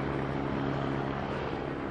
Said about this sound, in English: There are constantly helicopters overhead, both police and life flight helicopters